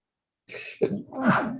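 A single sneeze bursts out close by, a sharp intake followed by an explosive, breathy release, with no talking around it.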